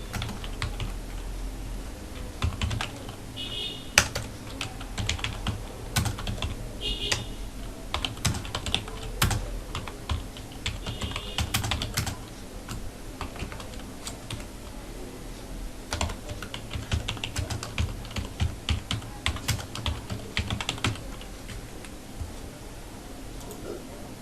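Typing on a computer keyboard while writing a letter in MS Word, a continuous run of close, crisp key clicks with bursts and short pauses, under soft background voice.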